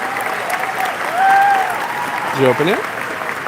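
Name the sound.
audience applause for creators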